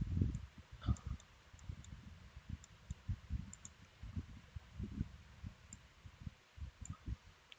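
A computer mouse clicks repeatedly during 3D structural modeling work, a faint, uneven series of soft taps with quiet background hiss and no talk.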